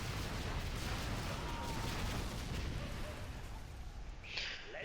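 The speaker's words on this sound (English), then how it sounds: "That was a very large explosion." A large in-game explosion from Command & Conquer Zero Hour rumbles as a long, heavy, booming blast with crackling debris, sustained and loud before a brief sharper burst near the end.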